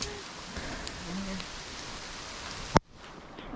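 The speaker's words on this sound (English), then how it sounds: "It's really raining too." Steady rain patters and hisses throughout in Hawaii, with a sharp thump near the end before the sound drops quieter.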